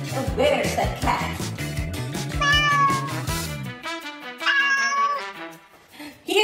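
A pet cat meows indoors in a short run of calls, partly over a busy home background with people talking and other sounds.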